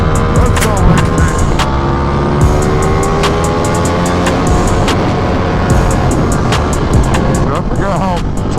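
A rebuilt sport motorcycle accelerates hard on the road with the rising engine pitch sweeping upward, all under heavy, steady wind rush.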